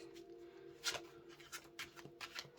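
Cards being handled and shuffled close by, soft quiet riffles and brushing taps coming in short irregular bursts over faint background hum.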